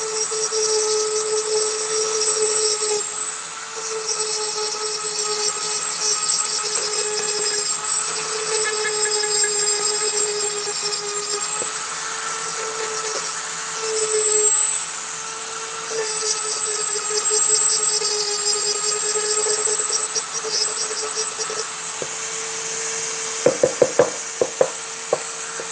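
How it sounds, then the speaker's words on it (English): A rotary tool fitted with a small ball burr grinds into maple wood, its steady high whine running continuously and close, with brief knocks and scrapes of the bit against the workpiece near the end. "This little ball burr is working pretty good on the maple"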